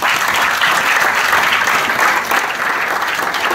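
A church congregation claps steadily for Jesus during worship, a dense, continuous burst of applause without pause for several seconds.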